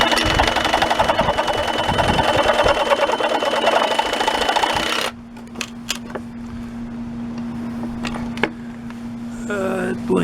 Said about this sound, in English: I'm gonna try the sawzall very carefully.